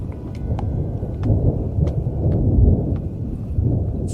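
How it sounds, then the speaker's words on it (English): Thunder rolling over a 12,000-foot mountain pass in the backcountry, a long, deep, swelling rumble under steady rain with scattered sharp drop taps. "the rumble of thunder from behind told me a giant was about to catch me"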